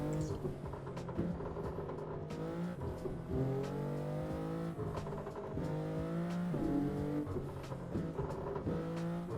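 A car engine revs and surges continuously in the No Hesi driving game with traction control off, pitch rising and falling through gear changes as the car slides, steady and loud, no talk.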